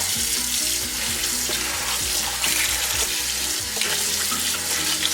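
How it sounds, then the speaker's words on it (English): Water runs steadily from a tap over soaked peppers in a salad spinner, a loud, continuous splashing rush with slight gurgling shifts, close and with no talking. "I can just pour that vinegar water out and refill it easily."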